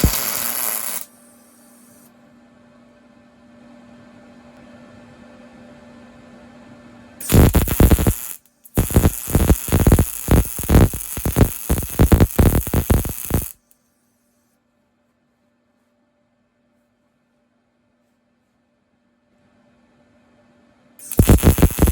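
PrimeWeld MIG180 welder laying beads on kiln roof hinges: two bursts of crackling, buzzing arc, a short one then a longer stuttering run of rapid pulses, separated by low electrical hum and silence.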